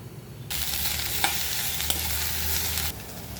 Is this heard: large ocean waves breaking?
no